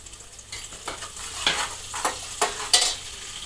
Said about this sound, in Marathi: आधी ह्या मिरच्या टाकून घेते मिरच्या टाकून घेते ह्यामध्ये लसूण टाकून घेते